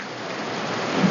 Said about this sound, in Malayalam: ഇതാ നല്ല മഴയുണ്ട്